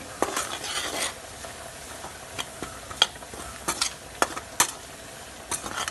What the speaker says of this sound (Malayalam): കുറച്ച് കുരുമുളക് പൊടി ഗരം മസാലപ്പൊടി എല്ലാം ഇട്ട് നന്നാക്കി ചോപ്പിച്ചെടുക്കുന്നു